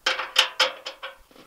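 A socket ratchet turning on a seat belt mount bolt in a VW T5 van, giving about six sharp clicking bursts in an uneven rhythm, close and moderately loud with no talk.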